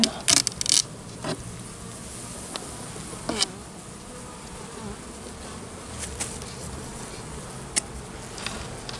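An outdoor honey bee colony, one hit by Asian hornet attacks, hums with dense steady buzzing at the hive, broken by a few sharp scrapes and clicks from handling the frames.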